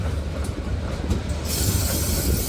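Eight economy-class rail cars roll heavily past at close range while being shunted in reverse at the Sidotopo depot, a deep steady rumble with a brief metallic hiss of wheels creeping in toward the end.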